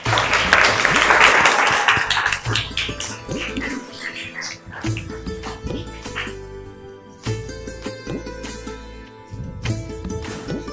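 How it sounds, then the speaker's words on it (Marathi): An audience applauds at a school educational quiz competition, a burst of clapping that is loudest at the start and then thins into scattered claps mixed with talk and background noise. "सानियासाठी टाळ्या वाजवा."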